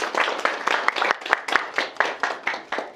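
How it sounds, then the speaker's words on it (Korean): A live audience at a cozy, intimate Korean talk event claps in rhythmic bursts, several distinct waves of hand claps close by and fairly loud, with no voices over them. "또 박수 한번 주시겠어요?"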